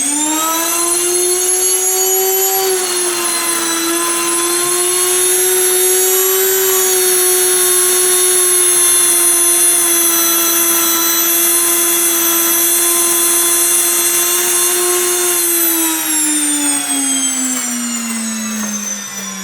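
An electric grain mill grinds wheat into flour with a loud, steady high-pitched whine that holds evenly for most of the run, then drops in pitch toward the end as it winds down.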